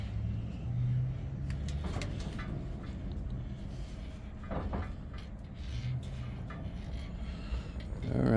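A 1955 Chevy Bel Air convertible pulls away with a steady low engine rumble and some clunks and rattles, the drone holding evenly close by throughout.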